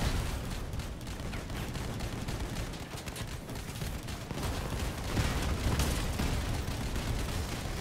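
Gravastar laser shotgun firing continuously in Crossout, with several coolers fitted, a dense, loud barrage of blasts and crackling bursts with little pause throughout.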